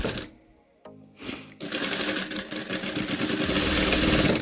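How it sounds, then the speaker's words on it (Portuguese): A sewing machine runs fabric through in a loud, steady, close whirring stitch after a brief start-and-stop, continuing without pause. "a gente vai começar a nossa costura"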